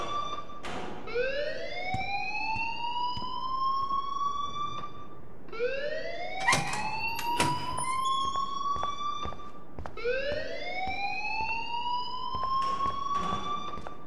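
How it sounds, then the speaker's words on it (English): A fire alarm siren in the video game Life is Strange wails in three long rising sweeps that hold at a high pitch, loud and continuous, with clanks and knocks beneath. "please turn off that alarm since that's your job"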